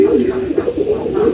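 Healthy pigeons in a loft coo repeatedly nearby, with low, throaty, rolling calls that overlap in a steady pulsing rhythm.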